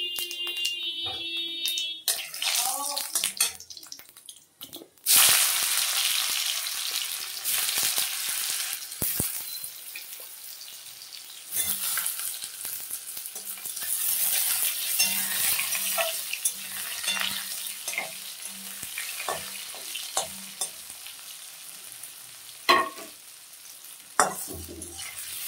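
Potatoes with panch phoron spices fry in a pan, an abrupt burst of loud sizzling as they go in, then continuous crackling and hissing with intermittent stirring scrapes and clatters.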